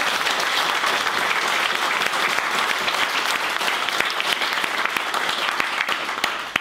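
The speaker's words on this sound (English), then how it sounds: "I'd like to give himself and Padraig a round of applause all over." A seated audience at an evening talk gives the speakers a round of applause, thick continuous clapping filling the room for several seconds and tapering slightly at the end.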